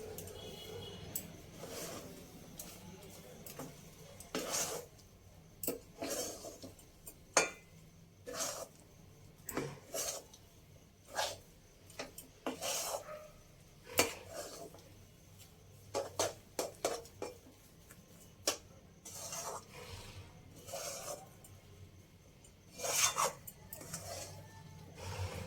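Chana dal halwa is stirred in a pan after milk is added, giving soft, faint scraping and squishing strokes in an irregular rhythm, close by and quiet, with no talk.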